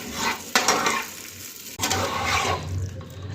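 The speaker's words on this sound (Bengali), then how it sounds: "আগে এক আলুগুলি ভেজে নিচ্ছি বড় বড় করে আলু দিয়েছি একদম সুন্দর করে আগে ভেজে নেবো লাল লাল করে" Large potato chunks fry in hot oil, giving a steady hiss and sizzle with a couple of sharp stirring scrapes against the pan, close up.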